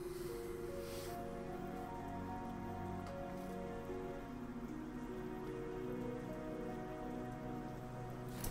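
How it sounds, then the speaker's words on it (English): Steady heavy rain in Trails of Cold Steel III, a dense continuous hiss of drops on surfaces lasting throughout, with soft game music tones underneath and no voices. "I didn't think it was raining this hard."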